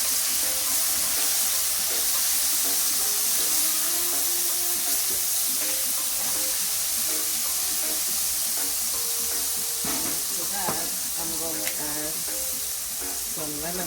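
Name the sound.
minced garlic sizzling in olive oil in a pan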